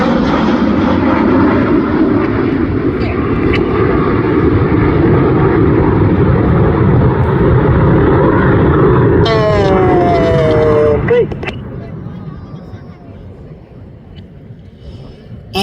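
RAF Red Arrows jets fly the rollback manoeuvre at the Midlands Air Festival 2025, producing a loud, sustained roar that dominates, then fades away after about eleven seconds, leaving a quieter distant rumble.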